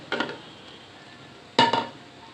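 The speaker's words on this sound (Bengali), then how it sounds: "মশলাটা নেড়ে চেড়ে কিছুক্ষণ কষাবো" Two brief clattering bursts of a spoon against a cooking pot while masala is stirred and browned for a hilsa fish curry, close and fairly quiet with a pause between.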